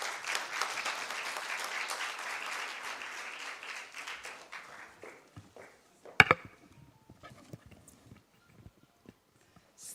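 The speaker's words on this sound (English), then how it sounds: "Can we welcome her with a warm round of applause" An audience at a business forum gives a speaker a warm round of applause, steady clapping that thins out over several seconds into scattered claps and a few sharp knocks, then near silence.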